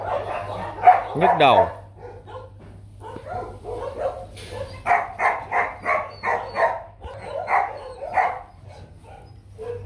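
Rottweiler puppies yip and bark in a quick string of short, close calls, with a whimper early on, while a person talks over them and a low hum runs underneath.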